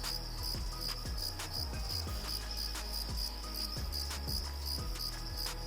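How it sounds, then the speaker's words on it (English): Crickets chirp loudly and steadily in a stylized horror film, a dense continuous trill close to the ear with repeating pulses and no talk over it. "Incredibly loud cricket track."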